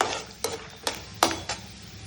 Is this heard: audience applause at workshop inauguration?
no